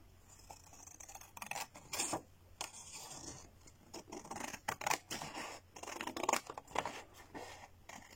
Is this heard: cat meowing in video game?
no